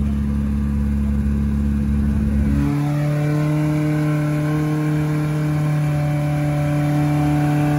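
An off-road vehicle engine, rebuilt after it started knocking, drives past at an off-road competition, loud and close. A rough low rumble shifts into a steady, rising tonal drone, with no talking.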